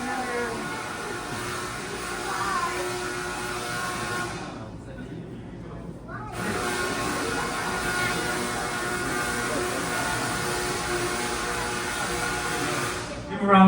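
A Tesla coil generating about 500,000 volts at Griffith Observatory in Los Angeles gives off a loud, harsh electrical buzzing roar that cuts out briefly partway through, then surges back and holds steady to the end.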